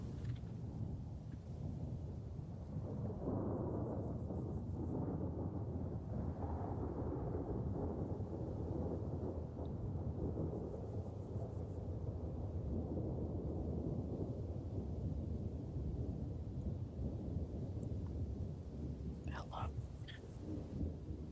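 Thunderstorm with steady rain and low rumbling thunder, a continuous dense wash of sound at moderate distance with faint murmured voices.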